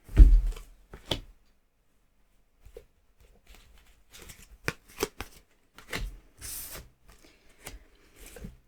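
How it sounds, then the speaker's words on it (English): Tarot cards being drawn and laid out by hand, with soft shuffling, sliding and light taps of cards, sparse and close, separated by quiet gaps. "So I'm going to draw 4 cards for the 4 positions that are still left."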